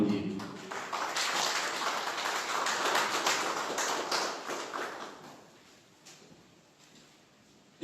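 An audience at a Paris conference on reform bursts into steady applause that swells, holds for several seconds, then thins out into scattered claps and quiet.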